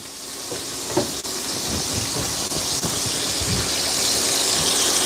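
Chicken thighs crackling in a pan, a steady broad hiss of frying grease building slightly louder over several seconds, with a few faint pops and low knocks underneath, close and without voices.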